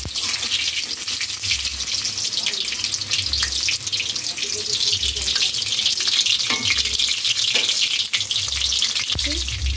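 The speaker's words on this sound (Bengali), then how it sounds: "এবারে উল্টে পাল্টে লাল লাল করে ভেজে নেব" Stuffed pointed gourds fry in hot oil in a pan while being turned until browned, giving a steady, close, loud sizzling hiss with occasional soft knocks of the turning spoon, no one talking.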